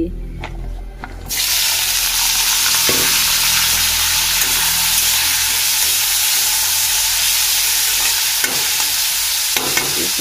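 Papaya pieces tipped into hot mustard oil in a wok set up a loud, steady sizzle that starts abruptly and continues without a break, with a few clinks of a utensil.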